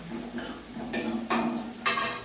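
A spoon stirring food in a metal kitchen pot after turmeric is added, several distinct scraping clinks in an irregular rhythm, close and moderately loud with no talking.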